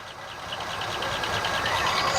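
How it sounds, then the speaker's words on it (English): A drag car engine idles on its carburetor with a steady low rumble and a fast, even mechanical ticking from sticking lifters, heard up close and alone. "It's running off the carburetor."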